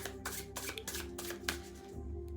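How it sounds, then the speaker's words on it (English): Tarot cards shuffled in the hands during a reading, a steady run of quick papery riffles and soft slaps, close and fairly quiet, with no voices. "I am going to shuffle this"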